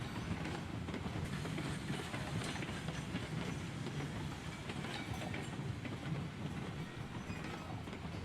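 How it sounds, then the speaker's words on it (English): Steady rumble and rolling clatter of a train running on rails in the Railroads Online video game, continuous and fairly loud across the whole stretch, with no talk over it. "I should be able to stop the train"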